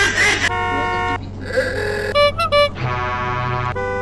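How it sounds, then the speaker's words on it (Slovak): A car horn honks repeatedly in a realistic car driving video game: sustained tonal blasts and a couple of short toots, loud and close, over a steady low engine hum. "Tady máte trúbenie."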